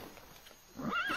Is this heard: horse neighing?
yes